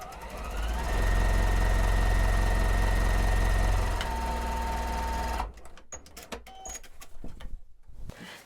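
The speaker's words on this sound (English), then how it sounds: "I'm just going to cut strings, turn it around, and sew 1/4 inch on the other side of the line" A sewing machine stitches a quarter-inch seam on a flying geese quilt block, running steadily and loud for about five seconds before stopping, followed by faint handling clicks and rustles.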